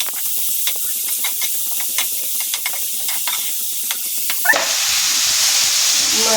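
Masala sizzles and hisses steadily in a pan as it sautés for a Kerala fish curry, with light stirring clicks. A louder, brighter burst of frying steam takes over near the end.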